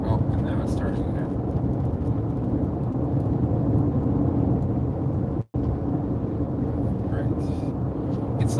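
Rain falling steadily, a dense, continuous hiss and rumble that holds unbroken apart from one sudden, momentary dropout midway.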